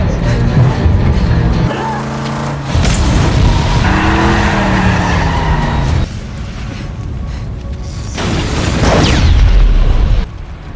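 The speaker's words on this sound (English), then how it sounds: "Finally, the yellow pickup truck returned, speeding directly toward her." A yellow pickup truck speeds toward someone in a dramatic scene, with loud roaring engine noise, heavy booming impacts and skidding throughout, and a surge near the end.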